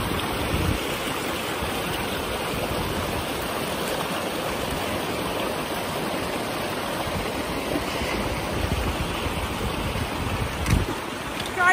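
Water flows steadily along a mostly dry river on a trackless backcountry hike, a continuous rushing wash with no clear breaks, close and fairly loud, and no voices.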